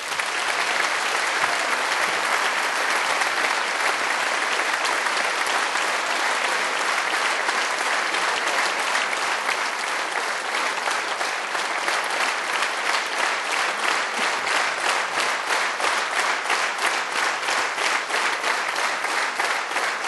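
A concert audience applauds a folk music performance with loud, sustained clapping that settles into a steady rhythmic beat, filling the room for the full stretch.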